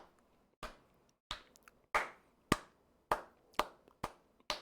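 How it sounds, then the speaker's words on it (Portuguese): Hands clapping in a round of applause during a Portuguese-language reaction stream, eight or so sharp, close claps with uneven pauses between them, no voices over them. "A salva de palmas."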